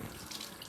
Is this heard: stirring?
no